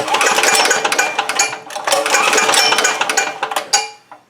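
A 168F single-cylinder diesel engine, two years old and cold after sitting, is cranked over with the compression release held, giving a loud, busy mechanical clatter with rapid rhythmic knocking that dips briefly midway and stops near the end.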